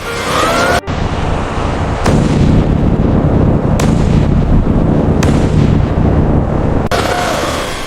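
Explosions going off outside, a continuous loud barrage of booms and cracks with several sharp bursts standing out, close and heavy, with no talk.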